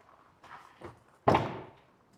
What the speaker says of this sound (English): Can I open the door?